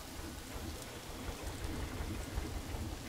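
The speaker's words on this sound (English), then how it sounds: "this rain is pretty bad" Steady rain falling in the zoo-building video game Planet Zoo, a constant broadband hiss of drops at even loudness with no voices, continuous across the whole stretch.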